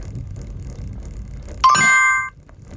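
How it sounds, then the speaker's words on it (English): A single bright electronic chime from a bike navigation app rings out briefly over quiet outdoor background noise on a trail, ringing for about half a second before cutting off. "so that chiming sound let me know that I'm back on the trail"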